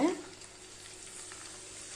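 Steady, close sizzling of cashews frying in hot ghee, a continuous crackling hiss with a brief clatter at the start.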